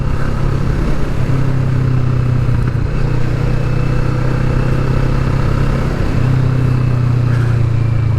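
Steady engine drone and road rumble from a 2020 Kawasaki Vulcan S ridden over a loose road surface near Matlock Bath, loud and continuous throughout with wind rush and no speech.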